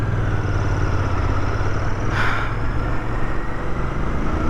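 A Royal Enfield Bear 650 motorcycle engine pulls above 4000 RPM, a loud, steady drone with rushing wind, heard close and continuous throughout.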